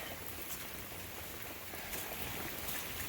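Heavy rain pours down steadily in a wet, muddy yard during a tornado-warned storm, a constant dense hiss of drops with no voices.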